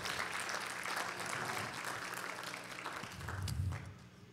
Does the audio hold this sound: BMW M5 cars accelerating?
no